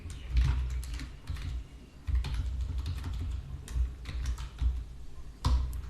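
Steady clacking of fingers typing code on a computer keyboard, a continuous run of close, crisp keystrokes with short pauses and a few heavier key hits.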